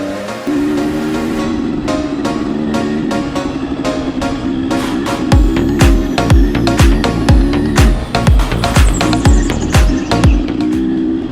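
Motorcycle engines racing along a flat dirt track section, loud revving drones with a series of sharp rapid bursts and passes close by.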